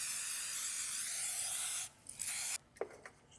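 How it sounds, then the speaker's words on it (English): A baking pan is greased with butter. A soft, steady hiss runs for under two seconds, then stops, followed by a few faint, brief rubs and taps. "So I'm going to butter the pan."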